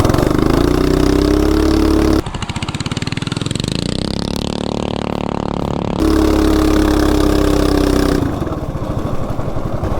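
A CT200U-EX mini bike fitted with a 420 big block engine runs loudly up close, a steady idle that swells into a surging rev midway before settling back to a rough, throbbing idle.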